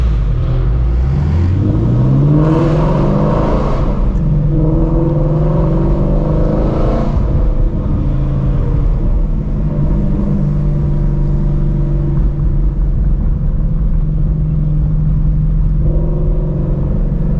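Cars, including a Shelby GT350 Mustang, rumble and rev as they pull up at an exotic car meet in Houston, with loud, close engine growls and rising revs at first, then a steady idle-like rumble.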